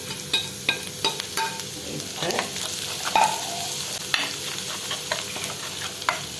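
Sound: frying ground ginger and onion with mustard seeds in oil

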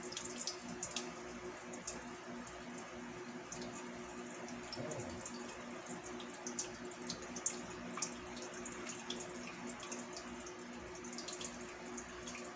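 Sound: pouring meatloaf juice off from the pan

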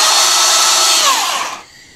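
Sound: Ryobi Portaband bandsaw running

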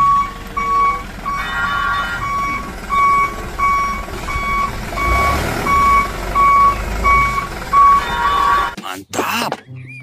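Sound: sand truck reversing beeps

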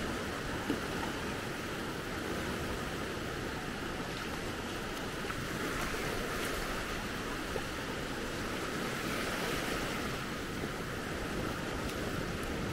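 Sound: waves on the beach at Maspalomas

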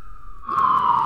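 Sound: fire department sirens in downtown Austin

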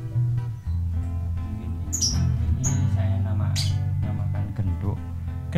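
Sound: lovebird chirping and singing

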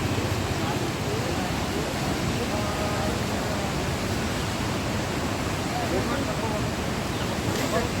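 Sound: river rushing and frothing

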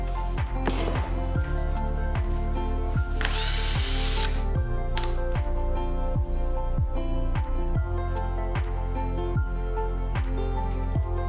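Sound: drilling 6mm holes in a hinge

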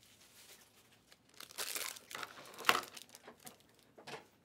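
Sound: trading card packs being opened, wrapper crinkling

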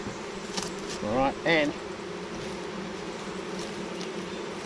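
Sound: bees buzzing around a hive

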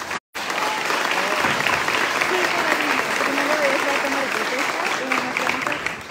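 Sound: audience applause

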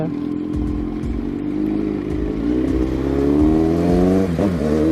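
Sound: motorcycle riding in heavy traffic

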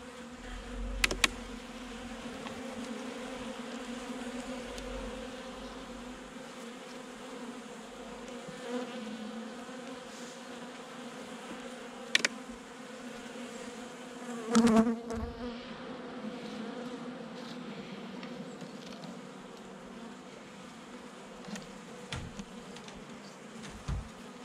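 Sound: honeybees buzzing during hive inspection

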